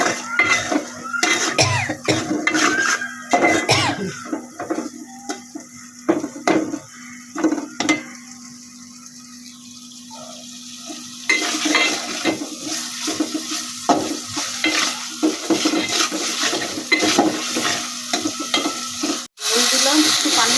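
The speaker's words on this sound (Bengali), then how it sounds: "এখন একটু ভালোভাবে কষাই নিই মাছটা।" Tengra and koi fish sauté with spices and salt in a pan for a village-style curry, sizzling steadily while a spoon stirs and scrapes in bursts, with a quieter stretch midway and a brief cough-like sound.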